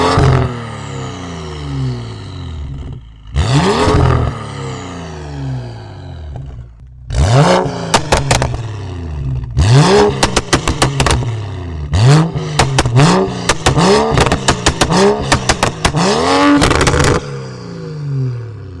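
BMW 535i with a full exhaust system revving repeatedly, deep throaty blips rising and falling, first a few long pulls then rapid bursts of short revs with crackles, loud and close with no talk.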